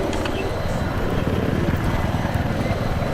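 A helicopter in the video game Battlefield 3 thunders close by, its rotor chop forming a loud, dense, pulsing roar across the whole moment.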